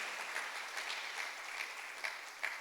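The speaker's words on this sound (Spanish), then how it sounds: "Dele un aplauso al dueño de la palabra de Dios sobre nuestras vidas." A church congregation applauds during a sermon, a soft, steady patter of many hands heard at some distance, fairly faint and even throughout with a few slightly sharper claps.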